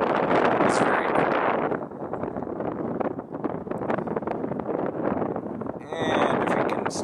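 Wind buffets the microphone on a bridge at night in heavy, continuous rumbling gusts that ease briefly midway and then pick up again.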